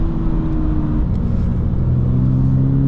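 A 2023 Toyota GR86 sports car engine runs loud and steady with a deep rumbling drone, its pitch holding then shifting slightly higher as it revs high.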